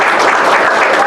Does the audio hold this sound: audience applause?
yes